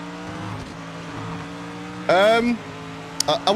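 GT3 race car engines in the Project Motor Racing video game on PS5: a steady engine drone with a sharp rising rev burst midway and a brief higher whine near the end, with some talk over it.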